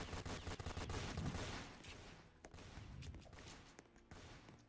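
Rapid AK-47 gunfire in Roblox Fortnite, a dense loud burst of shots through the first couple of seconds, then scattered quieter reports and thuds fading under game noise.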